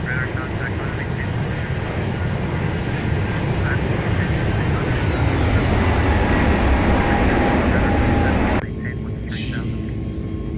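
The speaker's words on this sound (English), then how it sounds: "That flyby sound is pretty good even for default." Default aircraft flyby in a flight simulator, a loud sustained engine roar sweeping past under a voice before cutting off abruptly into quieter cockpit ambience.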